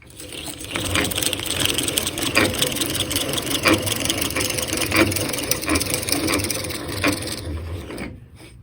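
A Stanley dowel and rod turning machine runs with a steady rasping, grinding whir as wood is cut, the rough scraping broken by periodic clicks and knocks before stopping abruptly at the end.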